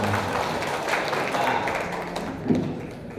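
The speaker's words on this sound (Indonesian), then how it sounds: "Tepuk tangan untuk panjenengan semua" Clapping from participants at an education training session in Mojokerto, a fairly dense round of applause that thins out toward the end, with faint voices mixed in.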